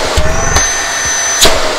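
A Panasonic MC-CG524 canister vacuum cleaner runs with a steady, loud whooshing drone, broken by a few brief knocks and scrapes.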